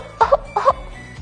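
Two deliberate coughs close to the microphone, each a quick double burst, with a softer third cough trailing at the end; a staged cough for a health clinic's cough-etiquette demonstration.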